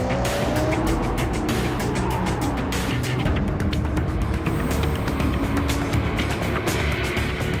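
Muscle cars racing nose to tail in a video game race, a Dodge Hellcat out in front, engines roaring steadily with tires squealing through the corners and a commentator talking over the action.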